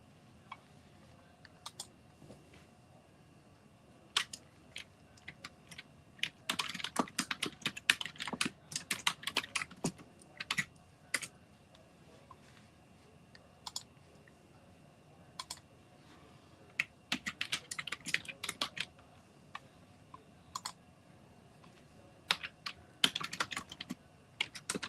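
Computer keyboard typing, bursts of rapid key clicks with pauses between them, close and clear in a quiet room without speech.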